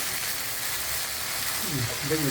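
Okra sautés in a pan with a continuous soft sizzle, close and even, while someone talks over it near the end.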